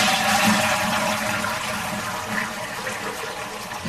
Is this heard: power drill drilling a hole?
no